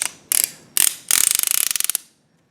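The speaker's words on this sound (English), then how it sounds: "when you pull it, it ratchets and it goes to the next, you know, buckle size you need it to be" A ratcheting belt buckle gives a close, loud series of sharp clicks as the belt is pulled through it: two short bursts, then a rapid, even run of clicks that stops abruptly.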